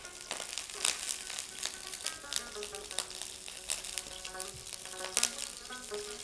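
Fish sizzles in a frying pan, a steady spitting crackle with sharp pops scattered throughout, close and fairly quiet.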